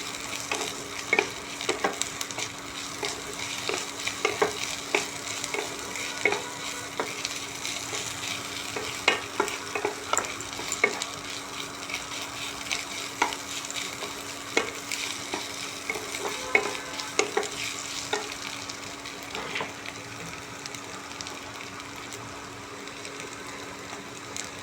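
Chopped onion and ginger frying in a pan, a continuous sizzle broken by repeated scraping and clicking as a spoon stirs, steady and close throughout.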